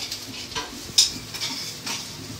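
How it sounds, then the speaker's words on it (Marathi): Masala of ground whole spices being stirred and sautéed in a pan, a soft scraping and sizzling with small clinks of a utensil against the metal, quiet and close. "छान मसाला परतून घ्यायचा आहे."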